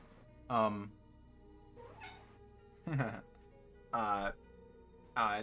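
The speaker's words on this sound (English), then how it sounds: "I hear a cat." A cat meows four times in short, fairly loud, close calls spaced about a second apart, with a softer breathy sound between the first two.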